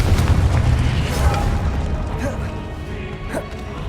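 The Confringo fire spell explodes in Hogwarts Legacy: a heavy, loud boom with a crashing burst at the start, then a rumbling, crackling tail that fades out slowly.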